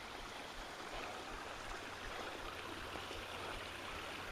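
A mountain stream flows steadily at a trail water source along a ridge, a close, continuous broadband rush and babble of water with no voices, holding an even level throughout.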